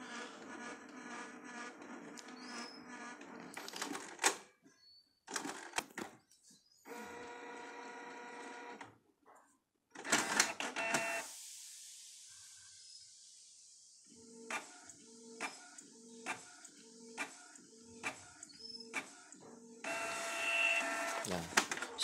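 A Canon MP287 inkjet printer, just reset after a jam and blinking color ink light, whirs and clicks in bursts, followed by a rhythmic series of mechanical clacks as the print head shuttles back and forth, with pauses between.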